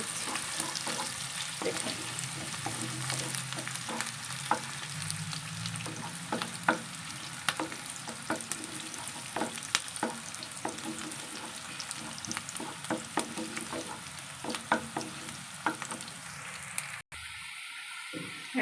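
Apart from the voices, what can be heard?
stirring ash gourd and shrimp curry with a spatula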